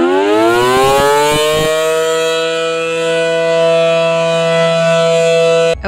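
An Alertor civil defense tornado siren sounds loud and alone, its tone rising at the start and then holding one sustained wail.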